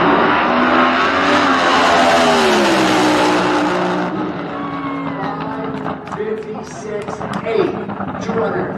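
A Top Fuel drag racing car makes a run at Motorsports Park, its loud roaring engine sweeping through rising and falling pitch before cutting off, with crowd or announcer noise continuing after.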